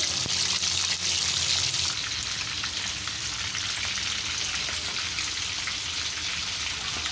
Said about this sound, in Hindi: ऑयल हमारा गर्म हो चुका है, तो चिकन को हम अब ऐड कर देंगे ऑयल के अंदर